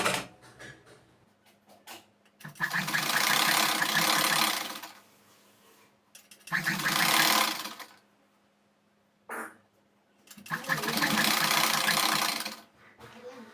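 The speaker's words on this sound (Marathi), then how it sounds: "आपण याला दाब शिलाई पण टाकून घेणार आहोत" Bursts of sewing machine stitching on a prince-cut blouse, three long runs of steady rapid whirring separated by quiet pauses and a short burst between, close and fairly loud with no talking.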